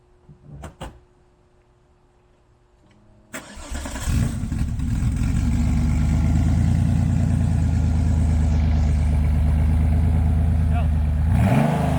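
An air-cooled Porsche 964 with a manual gearbox: after a quiet stretch with a couple of clunks, the flat-six cranks and catches with a loud burst, then settles into a steady, rumbling idle that holds to the end.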